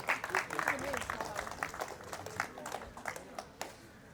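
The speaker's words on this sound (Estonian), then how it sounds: "igal juhul teeme aplausi" Spectators at an Estonian strongman competition stage in Palamuse applaud after a women's duel. Faint, distant applause sits beneath a commentator's steady talking.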